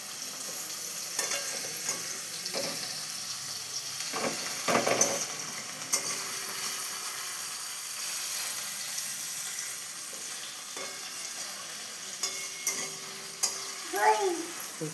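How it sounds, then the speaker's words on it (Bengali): Pumpkin and ridge gourd frying in a pan, with a continuous soft sizzle and intermittent scraping stirs, plus a few louder clatters of the spoon near the end. "কুমড়ো আর ঝিঙে এগুলো দিয়ে নাড়াচাড়া করবো"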